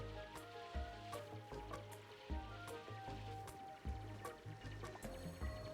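Water pours in the colony-building game Oxygen Not Included: Spaced Out, a steady liquid trickle and splash running through the whole stretch beneath rhythmic game music.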